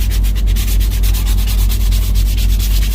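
Sandpaper rubbing steadily back and forth over a hand-carved wooden spoon, a close, loud and continuous rasping in quick regular strokes.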